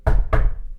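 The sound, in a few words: knocking on wood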